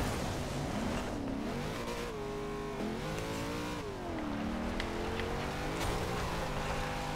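A Jeep Willys engine in the video game Forza Horizon 2 revs hard and steadily, its pitch rising and falling as the throttle shifts, with a synthetic, game-like tone and no voices.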